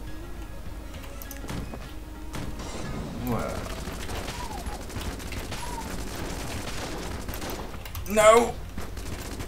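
Gunfire in the video game Enter the Gungeon: quick bursts of small, clicky shots under a player's talking, with a louder rattling volley near the end.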